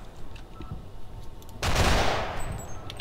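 An automated turret in the Half-Life Sven Co-op game opens up with a rapid, dense burst of gunfire that bursts in loudly and then tapers off into scattered ambient game noise.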